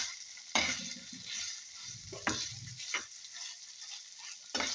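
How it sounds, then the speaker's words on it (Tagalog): Marinated chicken breast slices frying in a little oil over low heat, a soft continuous sizzle punctuated by several utensil scrapes and knocks against the pan. "And then little oil for frying"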